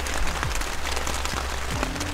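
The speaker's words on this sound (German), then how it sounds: "So, es hat doch angefangen zu regnen." Rain begins falling outdoors beside a cycling route along the Elbe, a steady broadband patter with scattered drops, heard alone for the whole stretch with no voices.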